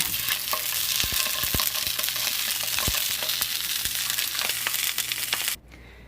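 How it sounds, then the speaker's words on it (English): Bratwurst sausage slices frying in a hot pan give a loud, steady sizzle with scattered crackles and pops, broken by a few sharp clicks, then the sound drops away abruptly near the end. "your pan should be nice and hot, and that's where you want to add your sausages in"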